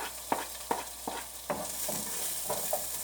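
Onion and garlic frying in a pan, a steady sizzle broken by several sharp scrapes of stirring at an irregular rhythm, close and moderately loud with no talk.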